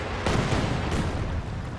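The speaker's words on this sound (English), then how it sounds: "Oh, Katyusha firing." Katyusha rocket artillery firing in Company of Heroes 2: a loud, sustained roaring rumble of a rocket barrage that holds steady for about two seconds before easing slightly.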